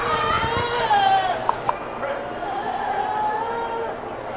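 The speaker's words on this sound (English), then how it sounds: "I think this is a pretty nice lineup of lightweight goats here" Lightweight market goats bleat repeatedly at a 4-H show, wavering cries rising and falling over a busy arena murmur with a few sharp knocks.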